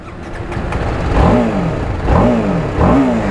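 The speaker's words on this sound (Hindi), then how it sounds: "और अभी अपन तुरंत बाइक को करेंगे ऑन।" A TVS Apache RR 310 BS6 sport motorcycle engine idles, then blips through three sharp revs in quick succession, each rising and falling back, loud and close.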